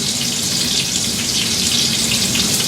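Salmon sizzling in a pan with olive oil, a steady broadband hiss of frying oil that holds even and close throughout, with no pauses or talk.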